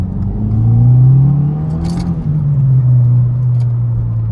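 A 2022 Subaru WRX on H&R lowering springs accelerating in second gear, a loud, close low engine drone rising then dropping through a gear shift, with brief clicks and no talking.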